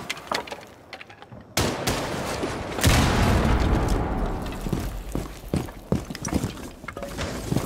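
Grenades go off in a video game, starting with a sharp crack and then a big rumbling explosion that slowly fades, followed by scattered smaller bangs and pops.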